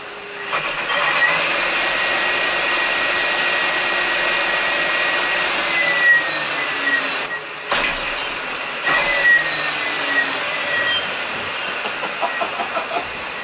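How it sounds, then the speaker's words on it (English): A homemade electric motor on a DIY mountain bike spins up with a steady high whine and broadband hum that holds loud and close, wavering slightly and briefly dipping partway through, with no one talking. "I'm hoping that's not top speed with this motor. It's not spinning that fast."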